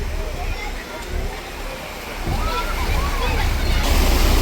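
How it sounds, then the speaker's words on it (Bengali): River water at Belari Char near Kolkata sloshing and washing against the bank as it draws back and surges forward, a broad continuous wash with a low rumble, heard under a person speaking. "দেখো পুরো জল টেনে দিচ্ছে"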